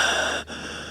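A voice imitates deep, raspy, guttural breathing as a single drawn-out, labored inhale-exhale, heard close and alone with a brief catch in the middle.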